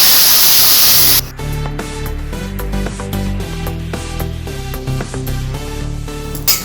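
Boiled moong dal dropped into hot oil spiced with ground coriander and green chillies, a loud steady sizzle for the first second, then the hiss gives way abruptly to music.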